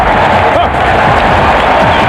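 A basketball arena crowd roars steadily and loudly after a slam dunk by Sixers rookie Tim Thomas, a sustained wall of cheering and clapping with no break across the short moment.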